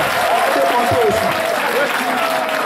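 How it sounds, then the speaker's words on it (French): Loud, continuous applause from a political rally crowd in Lomé for the justice minister, thick clapping with a voice calling out over it. "Applaudissez pour le ministre de la Justice parce qu'il a fait preuve de courage."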